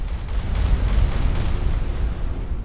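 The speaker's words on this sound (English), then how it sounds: "That's how big the explosion is." A slow, immensely powerful fireball spell called Blaze of Wrath explodes in Skyrim, a heavy low-frequency boom rolling into a sustained rumbling roar that holds steady for a few seconds, loud and without talk.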